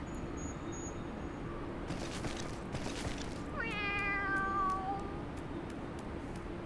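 A cat in the video game Final Fantasy XIV meows once with a clear, drawn-out falling call, heard faint against quiet ambient game sound and a few soft clicks.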